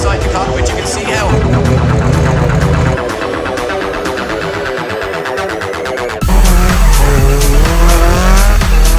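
A drift car screaming through a run at the Red Bull Drift event in Ireland, its engine roaring at high revs while tires squeal loudly and continuously, with a sharp jump in intensity near the end and commentary talking over it.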